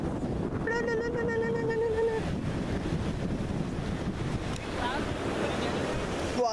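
Surf rolls onto a beach with steady wash and heavy wind rumble on the microphone, continuous and fairly loud, while a voice speaks briefly over it.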